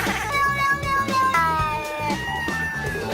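A cat meows in a singing cats contest on a TV talent show, with a string of loud, tuneful, wavering meows set over a rhythmic musical backing.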